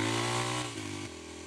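A Kawasaki KLX300 dirt bike engine revs while riding, with the secondary plate removed. The harmonic engine whine is loud and close, drops in pitch as the throttle eases, then dips again.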